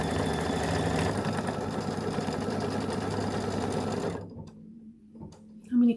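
Embroidery sewing machine stitching out a quilt block, a fast steady mechanical hum and needle chatter running close and loud for about four seconds, then stopping abruptly into near quiet with faint handling noises.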